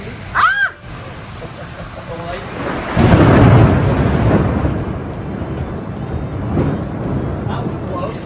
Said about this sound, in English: And then the storm came, and it was crazy as usual and loud.